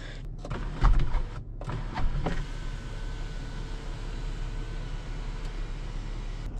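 The electric sunroof of a 2014 Dodge Challenger 3.6 V6 whirring open, a motor hum after a few clicks and thumps, then a steady, fairly quiet drone that continues to the end with no talk.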